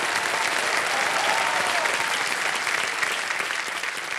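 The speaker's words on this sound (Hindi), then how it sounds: "एक बार फिर जोरदार तालियां बज जाएं उनके लिए।" A studio audience on a quiz show, Kaun Banega Crorepati, breaks into loud, steady applause, a thick continuous roar of clapping with no pauses.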